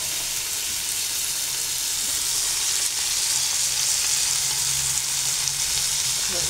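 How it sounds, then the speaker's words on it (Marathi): Dal frying in a pan in a small home kitchen, a steady dense sizzle that holds at an even level throughout, close and fairly loud, with no voices. "व्यवस्थित हे फ्राय करायचं।"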